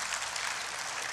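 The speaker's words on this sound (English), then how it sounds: "If y'all want to applaud, you can." Brief burst of audience applause in a church, a soft, dense wash of clapping lasting about a second with no talking.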